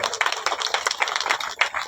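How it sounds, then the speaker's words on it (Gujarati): An audience claps in welcome at a Gujarati prana pratishtha ceremony for Sheshrao Maharaj: a dense patter of many hands, heard from a moderate distance, lasting about two seconds with no talk. "તાળી તો વધારે ભાઈ।"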